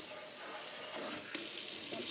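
Tap water runs into a kitchen sink with a garbage disposal, a soft, steady splashing hiss that picks up slightly partway through, quiet and close.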